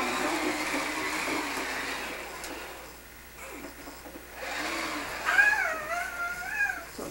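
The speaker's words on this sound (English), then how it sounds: "Turn it back on, a vacuum." A household vacuum cleaner from 1987 running indoors, a steady mid-level motor drone that dips briefly and then resumes with a rising whine, with no talk over it.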